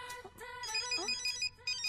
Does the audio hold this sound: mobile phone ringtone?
yes